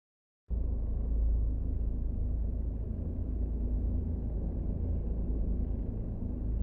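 A manual-swapped Lamborghini Gallardo, the Scuderia version, drives in the Assetto Corsa racing game, its engine a steady, loud, low rumble that starts abruptly and holds unbroken to the end.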